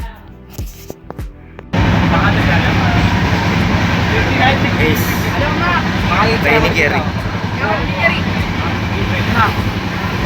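A loud, steady rumble of a moving train cabin bound for Kozhikode fills the recording after a short quieter start, with rattling and clatter throughout and no speech.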